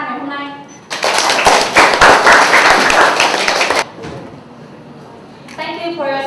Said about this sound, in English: We would like to give a round of applause to all the panelists.